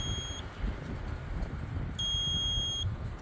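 An electrical continuity tester gives two high, steady electronic beeps as its probes touch the blades of a lawn tractor fuse, the first short and the second longer, over a low background hum.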